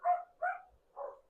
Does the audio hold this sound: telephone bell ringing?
no